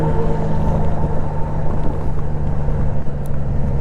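Honda Goldwing motorcycle engine running under throttle on the road, a steady low rumble with wind noise, continuous and close throughout.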